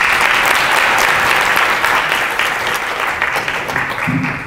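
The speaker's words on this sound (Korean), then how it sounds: "큰 박수 부탁드립니다" An audience at a PyCon APAC 2016 conference talk claps in a sustained, dense round of applause that holds loud and even throughout, with a voice briefly emerging near the end.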